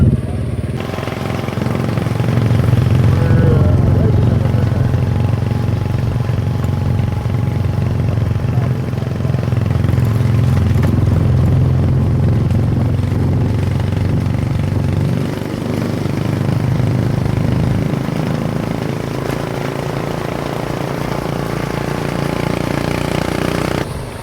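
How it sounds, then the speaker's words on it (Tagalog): A motorcycle engine runs steadily throughout a ride in Tibiao, Antique, with a low, continuous drone and rattling that stays loud and even the whole time, and no one speaks. "Okay, nakasakay tayo ng motor."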